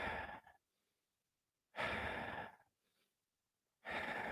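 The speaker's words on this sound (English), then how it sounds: "just get your breath up like this." Deliberate heavy breaths demonstrated during exercise advice, three long, close exhalations separated by brief silent pauses, loud and alone with no talking.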